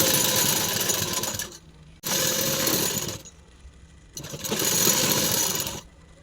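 A sewing machine stitches a seam down the middle of fabric while an elastic sharara is being made, running in three steady whirring bursts with short pauses between them.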